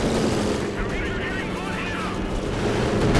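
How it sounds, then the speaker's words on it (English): Artillery fires in a Company of Heroes 2 battle, rolling blasts and rumbling impacts layered with gunfire in a dense, continuous wartime din, with a voice talking over it at times. "it's still not as good as my artillery, which is now shooting"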